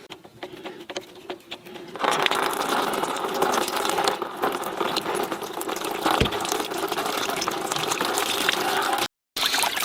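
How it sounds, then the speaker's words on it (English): Dirty coolant pours steadily out of a clogged radiator on a Massey Ferguson FE35 tractor into a container, a continuous close gushing splash that starts after a quieter moment and runs on with a brief gap near the end. "we'll be able to remove the liquid that's inside the radiator that will collect in something like this"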